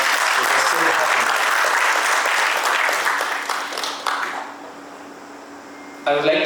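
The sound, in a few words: audience applause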